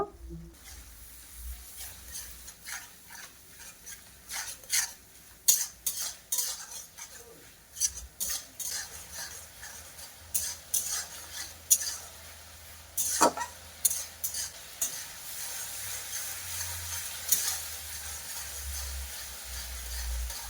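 Vegetables, shrimp, ginger-garlic paste and spices for a Bengali pui-shak chorchori are stirred in a pan, giving irregular sharp scrapes and clinks of a metal spatula over a faint, soft sizzle. Low hum in the background.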